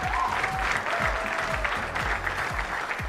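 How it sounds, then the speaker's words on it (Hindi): Sustained applause for Tokyo Olympic medal winners at an honouring ceremony, a dense steady clapping crowd filling the room without pause. "सभी लिए ताली बनती है यार प्लीज़"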